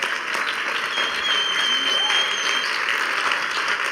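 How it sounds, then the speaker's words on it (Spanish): A church congregation applauds at a Venezuelan Easter resurrection service, a steady wash of many hands clapping at moderate volume, sustained evenly for a few seconds with a faint voice or tone drifting over it. "Ese es tu mejor aplauso para el Señor."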